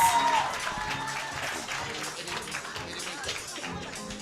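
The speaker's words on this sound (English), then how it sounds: "Give him a round of applause" Scattered audience clapping at an agricultural career fair opening, moderate and fairly distant, tapering slightly after a louder start and continuing at a lower level.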